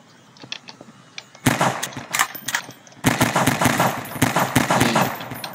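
Gunfire in Garry's Mod, with rapid automatic bursts arriving in two loud stretches after a quieter start, close and sharp with no talk over them.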